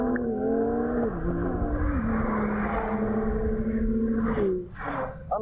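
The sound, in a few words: BMW M2 and BMW 1M accelerating in a drag race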